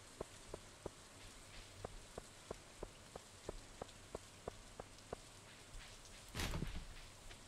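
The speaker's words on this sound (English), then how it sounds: "Rain sounds are pretty relaxing." Rain in the farming video game Stardew Valley, a soft even patter with regular light drip ticks about every third of a second and one brief louder splash near the end, heard alone.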